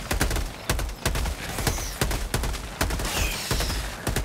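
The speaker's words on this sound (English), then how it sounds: "Opening fire." Video game gunfire from Helldivers 2 against bugs: a steady run of loud, close shots in quick bursts, sharp broadband cracks repeating at roughly half-second intervals throughout.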